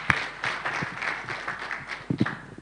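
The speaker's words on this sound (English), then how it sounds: "Let's give another round of applause to both Dr. Francois and Prof. Muchumbitsi" Scattered applause from a conference audience follows a presentation, a loose run of claps rising and falling at moderate distance without a full ovation.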